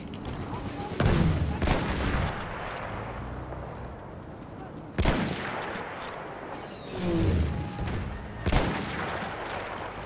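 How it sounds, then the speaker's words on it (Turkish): Rifle gunfire in Battlefield 1 from a sniper-like weapon firing 7.62 rounds: several loud, sharp cracks spaced a few seconds apart, each with a booming tail, over constant battlefield ambience. "Bu sniper gibi bir silah ha."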